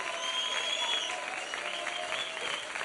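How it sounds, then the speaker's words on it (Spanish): Steady audience applause for the musicians at a live Canal 22 broadcast event, a dense even wash of clapping filling the whole stretch with a faint tonal hum beneath and some crowd murmur. "Un aplauso para los músicos"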